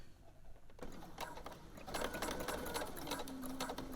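A sewing machine stitches elastic onto mesh fabric for a sports bra, running in quick buzzing bursts that grow steadier and louder toward the end.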